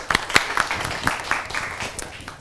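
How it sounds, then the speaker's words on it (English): Audience applause at the start of a university talk: a short burst of scattered, fairly faint claps with a voice speaking over them. "Keep clapping, keep clapping."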